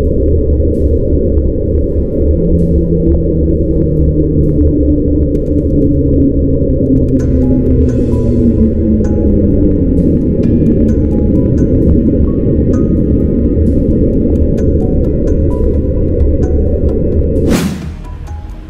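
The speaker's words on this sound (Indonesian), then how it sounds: "NOAA menduga jika suara misterius ini berasal dari gunung es yang melayang dan memukul dasar laut, sehingga menghasilkan suara melengking lalu melambat." An underwater recording attributed to a drifting iceberg striking the seafloor: a loud, continuous low drone with slow gliding tones that rise and fall, ending in a sharp crack before it fades.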